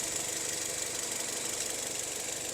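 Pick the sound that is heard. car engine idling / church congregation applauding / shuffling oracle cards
car engine idling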